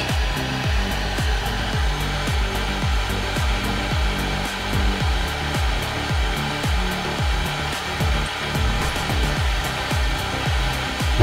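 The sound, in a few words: hot air heating a GPU chip to 150 degrees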